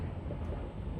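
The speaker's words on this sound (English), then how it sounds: "like that, there's a lot of wind." Steady outdoor wind rumbles and buffets across a cold open setting, a dense low whooshing roar with no break and no voices.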